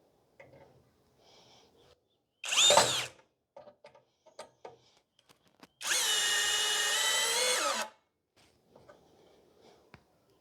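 A Hanabi 16V cordless drill drives a screw into soft wood in two loud whirring bursts, a short one and a longer sustained one, with quiet clicks and handling noises in between.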